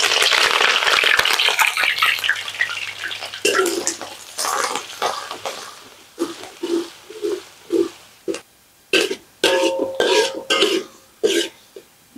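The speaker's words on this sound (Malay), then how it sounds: "Tumiskan bahan ni." Ginger, garlic, shallots, curry leaves, star anise, cinnamon and cloves sautéing in a pan, a loud sizzle at first that breaks into repeated stirring bursts and scrapes, roughly a dozen spaced strokes.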